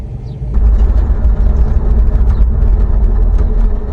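A car engine cranks and catches, then settles into a loud, steady low rumbling idle close by, with no talking over it.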